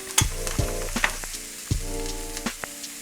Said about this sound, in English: put the vegetables in here to cook for dressing